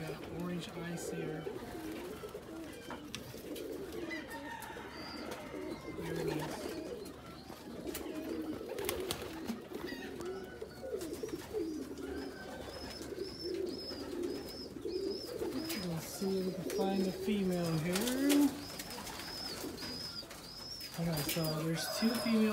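Pigeons cooing repeatedly in a loft, with soft, throaty, rolling coos close by, some overlapping, alongside rustling and a person talking intermittently.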